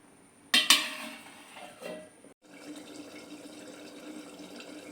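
A metal lid set onto a cooking pot while making echor kalia (jackfruit curry): a sharp clang and rattle near the start, a few smaller clinks, then a steady low simmering hiss, close and alone.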